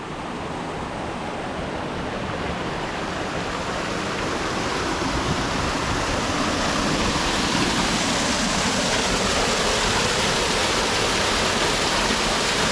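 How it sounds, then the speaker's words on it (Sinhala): A continuous rushing roar of a small waterfall, Rakkanava Ella in Sri Lanka, loud and steady, slowly growing a little stronger with no voices. "නිකන් පොඩි දියල්ලක් වගේ තියෙනවා."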